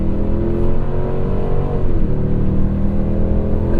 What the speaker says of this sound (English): And I'm flooring it.